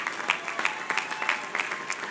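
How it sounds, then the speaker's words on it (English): Audience at a college graduation ceremony gives a round of applause, a moderate crowd of individual claps rattling steadily throughout, heard from a little distance. "Let's give Jared a nice round of applause."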